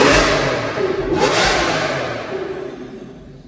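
A powerful V12 supercar engine revs loudly with a sweeping whoosh, then fades into a fading rumble.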